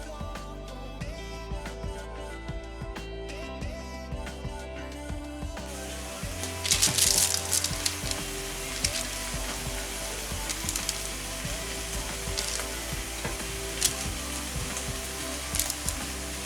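Artichoke heart stuffing browning in a pan, a steady bright sizzle that swells louder after the first few seconds and continues with crackles and faint stirring, with no talking.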